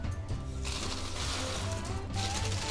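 Cardamom pods dry roasting in a pan crackle and pop in a dense, steady patter of small clicks close by, with a low hum underneath.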